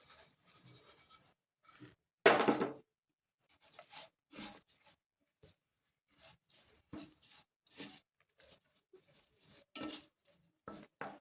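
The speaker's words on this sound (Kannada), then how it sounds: "ಅರ್ಧ ಕಪ್ ಅಷ್ಟು ಸಕ್ಕರೆನ ಹಾಕ್ತೀನಿ" Sugar being tipped into a pot of soft, pressure-cooked carrot halwa, heard as one brief grainy pour and rustle among light scraping and stirring clinks from a spoon against the metal pot, with no talk.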